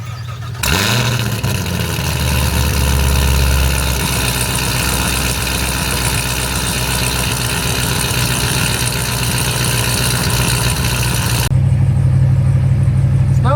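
A Chevrolet Corvette C7 ZR1 with a 720 whp HP Tuners tune and stock parts starts up and settles into a loud, steady, rumbling idle, close by and without speech.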